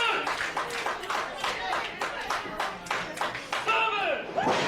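Fans at an independent pro wrestling show clap in fast rhythmic bursts to rally behind a wrestler, the applause fairly close and continuous with shouts and a commentator's voice running over it.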